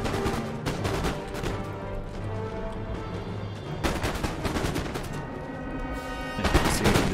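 Massed musket volleys from infantry lines in the strategy game Empire: Total War, a dense, loud, continuous crackle of overlapping shots with heavier swells of firing near the start, middle and end.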